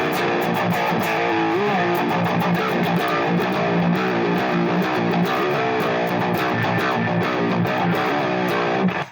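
A heavily distorted electric guitar through a Revv G3 distortion pedal plays a continuous dense riff, loud and saturated, with sustained chords throughout and no voices.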